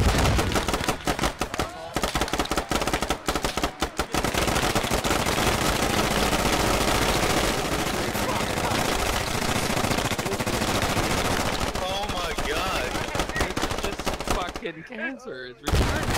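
Several SAW light machine guns in the video game Squad fire together in long, dense, loud automatic bursts, with a brief lull near the end before the shooting resumes.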